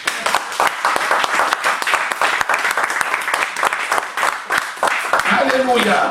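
A church congregation breaks into loud, dense applause in praise, steady clapping filling the room for several seconds, with voices rising toward the end.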